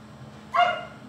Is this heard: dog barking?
yes